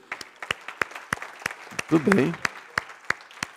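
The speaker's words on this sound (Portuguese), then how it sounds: "Vamos aplaudi-lo?" A conference audience claps in sharp, evenly spaced strokes, a few hands close by rather than a full crowd, while someone briefly speaks over the middle.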